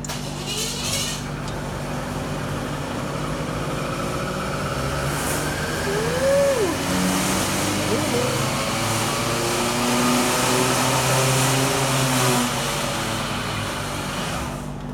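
A small two-stroke engine fitted with a bolt-on reed valve runs steadily at full throttle during a power test, a continuous loud drone with a few brief pitch sweeps and no talking.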